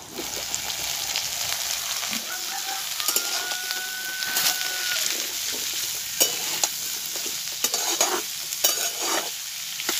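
Potatoes and green amaranth stems frying in a pan with a steady loud sizzle, punctuated by repeated scraping and clinking as a spatula stirs them.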